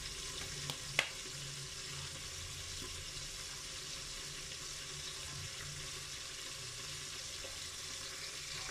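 Tuna sarsyado cooks in hot oil, a steady dense sizzle that holds even throughout at close range, broken by a couple of faint clicks near the start, with no speech.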